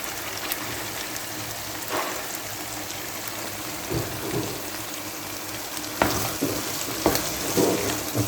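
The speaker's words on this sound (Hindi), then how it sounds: "अब हम इस स्टेज पे इसमें चकनार डालेंगे जो हमने पहले से साफ़ करके धो के रखे हुए हैं" Minced meat sizzles in ghee in a cooking pot as kachnar buds are added, a steady close frying hiss and crackle with occasional soft thuds and stirring clatter.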